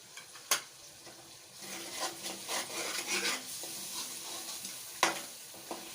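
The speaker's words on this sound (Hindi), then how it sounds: "ये मैंने काली मिर्चें, ज़ीरा, खुशक धनिया ये भी साथ ही ऐड कर रही हूँ।" Black pepper, cumin and dried coriander fry in mutton karahi masala, a close continuous sizzle broken by spoon scrapes and a few sharp clinks against the pot, with no voices.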